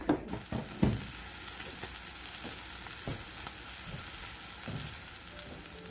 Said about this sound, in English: Now we're gonna fry up a patty and see if we need to add anything.